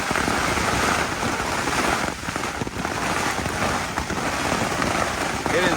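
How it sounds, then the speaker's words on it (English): Hail and rain pound a Jack Wolfskin Yellowstone 2 tent in a violent storm with strong winds, making a loud, dense, unbroken hiss and patter that fills the whole stretch with no let-up. "I think we're getting hailed on right now."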